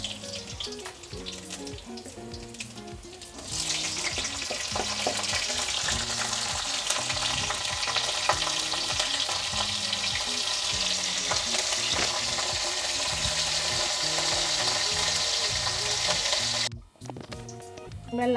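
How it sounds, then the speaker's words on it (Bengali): Panch phoron and green chillies drop into hot mustard oil, and a quiet pan suddenly erupts into a loud, dense, continuous sizzle that crackles steadily up close, then cuts off briefly near the end before resuming. "এখন তেল গরম হয়ে গেছে, এবার পাঁচফোড়ন আর কাঁচা লঙ্কা দিয়ে দেবো।"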